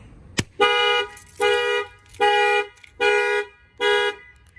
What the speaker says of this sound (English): I'm going to go ahead and set off the alarm so you can see how it works.